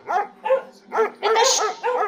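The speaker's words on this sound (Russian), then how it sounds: "Это что за лай стоит в моем дворце?" Several dogs bark in a stage play of a fairy tale at a village house of culture, a string of loud, close barks and yips in quick bursts with short gaps, no talking over them.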